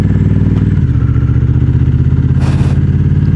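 A steady, loud Honda Rebel 1100 motorcycle engine rumbles at a constant idle-like pace, with a brief burst of clatter partway through.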